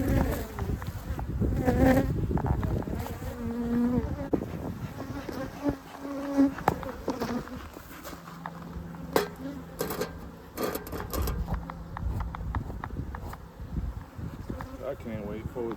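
Honey bees buzz steadily around a beehive during winter preparation in Azle, Texas, a dense close insect drone with occasional nearer passes, while people talk in the background and light clinks sound now and then.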